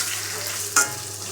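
Mutton with pieces of raw papaya is stir-fried for Bengali kosha mangsho, a constant oily sizzle broken by one quick, close spatula scrape against the pan.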